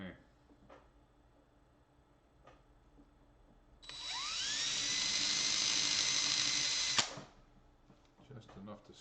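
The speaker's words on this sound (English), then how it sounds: "I'm going to use a drill to do a starter to get these screws in" An electric drill bores small starter holes for screws while fitting a pickup system into a Kremona Soloist F65C classical guitar, spinning up with a rising whine, holding a high steady buzz for about three seconds, then stopping abruptly.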